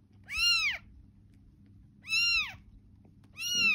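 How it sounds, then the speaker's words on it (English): A newborn kitten screams loudly in three separate high, shrill meows, each under a second long, with pauses between them and a low household rumble underneath. "the kitten was just screaming, like, very loud, like loud for like a newborn kitten"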